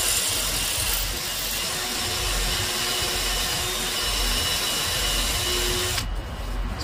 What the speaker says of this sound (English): We are drilling getting bigger and bigger, guys.